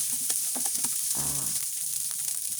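Rice being stir-fried with shrimp fat and roasted chili paste in a hot pan, a steady sizzling hiss with soft scraping and tossing sounds at close range.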